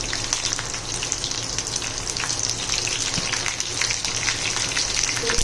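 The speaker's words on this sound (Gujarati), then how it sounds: "તેલ ગરમ થાય એટલે આપણે એમાં લસણ એડ કરશું." Finely chopped garlic fries in hot oil with a steady, dense sizzle and crackle that stays even throughout, close and moderately loud with no voices.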